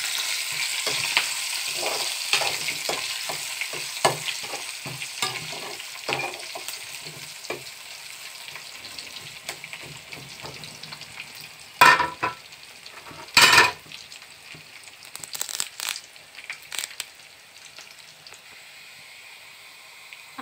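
Onions, crushed shallots, dried chillies and tempering spices fry in hot oil with a soft, steady sizzle, broken by a few sharp clinks and scrapes of a utensil against the pan.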